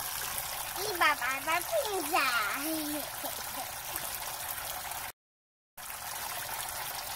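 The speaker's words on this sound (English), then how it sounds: "We've got hot water coming out of the sparging, the sparge water." Hot sparge water trickles through grain into a brew kettle during home brewing, a steady faint wash of running water while someone talks over it for the first few seconds.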